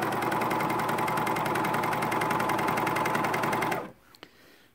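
A coverstitch machine hems knit pants with a steady, fast mechanical whir that runs loud and continuous for about four seconds before stopping, followed by a faint click.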